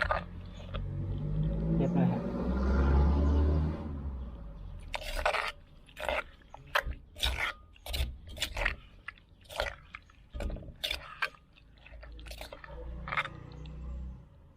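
Green mango salad (som tam) with sour wild mango being pounded in a mortar, a run of sharp, evenly spaced crunching thuds up close after an opening stretch of rumbling handling noise.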